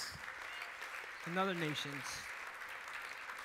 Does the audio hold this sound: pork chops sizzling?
no